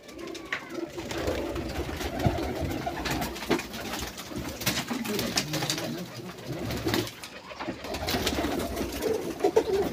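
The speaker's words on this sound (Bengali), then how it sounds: "এখানে কিছু পায়রা রয়েছে, মারপিট করছে তারা" Several pigeons coo and scuffle nearby in a noisy loft at dark, with bursts of wing flapping and low cooing over steady background murmur, and a voice talking briefly.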